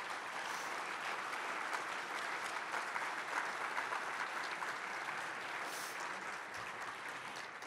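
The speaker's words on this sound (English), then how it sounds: "give a round of applause to our six candidates for taking time today" An audience at an agriculture and rural issues gubernatorial candidate forum applauds six candidates, dense sustained clapping that holds steady and full for several seconds.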